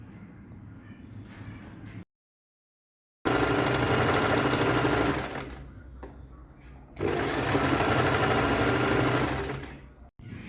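A domestic sewing machine stitches lace onto a pair of pants in two long, loud runs of steady whirring with a brief pause between them. The motor slows and drops near the middle, then starts up again.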